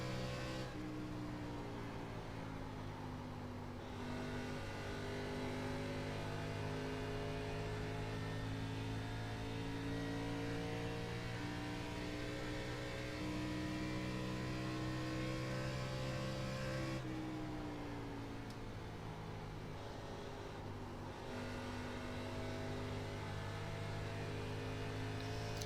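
ARCA race cars in the iRacing simulator on the Nashville oval drone continuously at high revs, a loud layered engine roar that holds steady with slight pitch shifts and a brief dip partway through.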